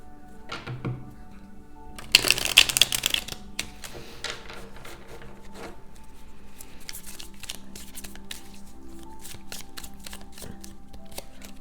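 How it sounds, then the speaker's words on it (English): Cards rustle and riffle close by, with a brief burst of crisp flapping followed by soft, steady shuffling clicks. "Let's give it a good shuffle."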